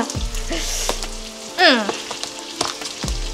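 Frying in a pan gives a light sizzle with a few clinks, mixed with tonal sounds and brief voice-like sweeps. The cooking noise sits close and fairly quiet.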